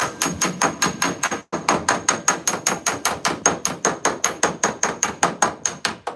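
Rapid, steady metallic hammer blows on a dented brake disc, roughly four strikes per second, loud and close, with one brief pause early on.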